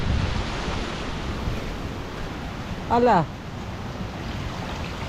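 Floodwater waves and strong wind from Typhoon Uwan make a steady, rushing roar throughout, and a man gives a brief startled shout partway through.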